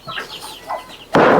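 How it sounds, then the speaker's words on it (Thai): A duck at a rural home in Laos gives a few short, close nasal calls, followed by an abrupt burst of loud broadband noise at the end. "นี่เป็ด"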